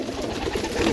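Pigeons for sale coo in a soft, continuous burble, close by and fairly loud, with several birds overlapping and no talk.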